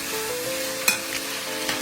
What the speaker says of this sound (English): we're just going to stir that around